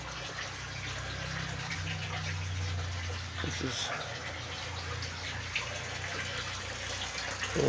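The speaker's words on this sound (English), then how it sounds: "So I've got water continuously flowing in" Steady rushing and trickling of water flowing through a home aquaponics system, continuous and fairly close, with a low pump hum underneath.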